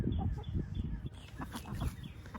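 Backyard chickens clucking in a garden, a series of short close clucks and murmurs from a few birds.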